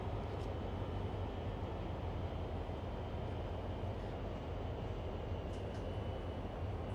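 A CSX freight train in the Train Sim World game rolls along at about 25 mph, giving a constant low rumble and steady rail noise with no breaks and no speech.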